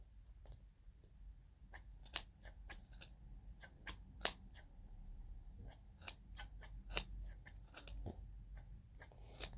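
Sharp scissors snip through yarn wound on a pom pom maker. The cuts come as a series of crisp, close, irregular clicks and crunches against a quiet background.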